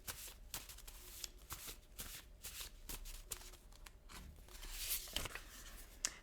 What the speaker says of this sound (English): These are hard to shuffle because they're post-it notes.